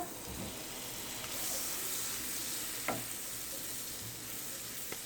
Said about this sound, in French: dans ma poêle bien chaude, je mets un morceau de beurre